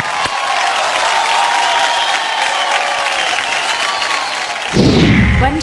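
Loud crowd applause and cheering at an awards show for Shahid, a dense continuous roar of clapping that swells with a sharper burst near the end.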